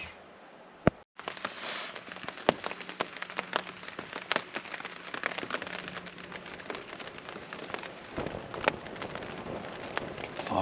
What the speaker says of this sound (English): Finally raining.